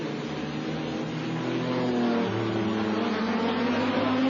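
A race car in a 1999 FIA GT round at Zolder drives through the chicane, giving a steady, fairly faint engine drone whose pitch swells and shifts as it goes, with no voice over it.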